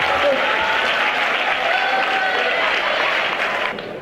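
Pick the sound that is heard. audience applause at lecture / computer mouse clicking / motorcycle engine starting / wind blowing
audience applause at lecture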